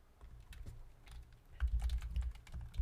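Fingers type Java code on a computer keyboard, a run of quiet irregular key clicks that thicken into a denser burst of taps partway through, close and alone with no voice.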